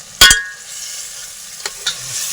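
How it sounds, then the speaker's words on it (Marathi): Spices and chicken masala hit a hot pan for tempering and flare into a loud, sharp sizzle at the start, then settle into steady frying with a couple of brief stirring clinks. "आता फोडणी देतो"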